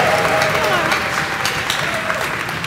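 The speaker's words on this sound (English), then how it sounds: "can I get everybody in the room to practice whooping, clapping, and stomping at the same time?" A PyCon UK conference audience at lightning talks bursts into sustained clapping, whooping and stomping, a dense, continuous roar of applause from a full room.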